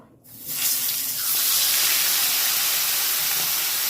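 Tilapia fish sliding into hot oil in a pan, setting off a sudden loud, steady sizzling hiss that swells within a second and stays strong to the end, with no talking.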